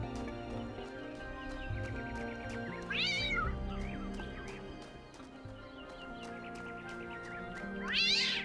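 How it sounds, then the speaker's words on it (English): A cat meowing in the video game Talos Principle 2, two distinct rising meows a few seconds apart over a steady background of game music and ambient tones, with no speech. "I'm scaring this cat to death."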